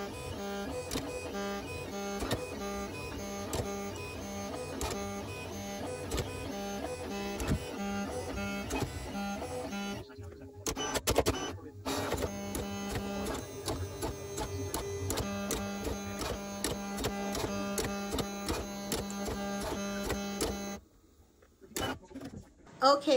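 A cutting machine kiss-cuts Bible tab stickers, a steady mechanical whirring and clicking run that stops briefly twice, with no talk over it.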